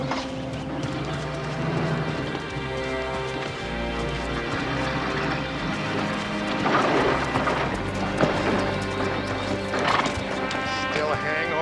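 Hooves clip-clop beneath a busy mix of sounds as a horse whinnies, with occasional knocks and thuds nearby.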